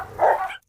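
A single short bark from a hunting dog, close and fairly loud, rising then cut off quickly into silence.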